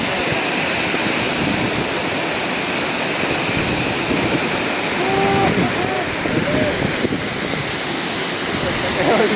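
The lower waterfall in Bells Canyon roars with a strong flow of snowmelt, a loud, steady, close wash of rushing water, with a voice speaking faintly underneath.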